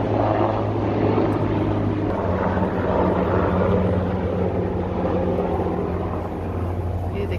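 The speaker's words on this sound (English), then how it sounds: "We got a helicopter coming in." A helicopter flies in overhead outdoors, a steady low rotor drone with a constant hum beneath it, holding fairly loud and even throughout amid background noise.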